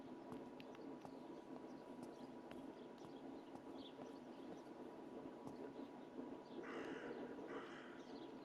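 Crow cawing in the horror video game Martha is Dead: two harsh caws near the end, moderately loud over a quiet, steady ambient outdoor background with no talking.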